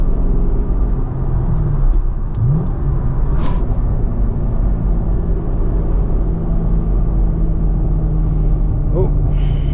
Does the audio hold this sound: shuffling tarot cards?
no